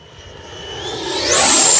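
An RC FMS F-86 Sabre with an 80mm electric ducted fan flies past in windy conditions, its rising whine and rushing air swelling steadily louder and higher toward the end.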